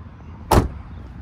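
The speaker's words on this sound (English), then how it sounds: "now I'm gonna pop the hood" A single short thunk as the hood of a Trans Am drift car with a 416 cubic inch LS3 is popped open, one brief mechanical release close by in a quiet space.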